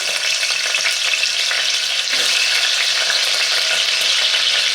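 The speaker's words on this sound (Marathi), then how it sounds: "आणि ह्या फोडी आता आपल्याला सुरुवातीला या तेलामध्ये घालून घ्यायच्या आहेत आणि छानपैकी थोड्याशा गोल्डन ब्राऊन होईपर्यंत थोड्याशा आपल्याला फ्राय करून घ्यायच्या आहेत" Potato pieces sizzle in hot oil in a pan, a loud, dense, continuous crackling hiss close to the mic, with a brief surge partway through.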